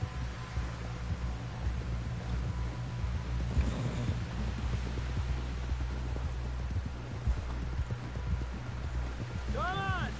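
Horse hooves clip-clop steadily in the video game Red Dead Redemption 2, a rhythmic trotting beat under continuous wind and game ambience, with a brief whinny near the end.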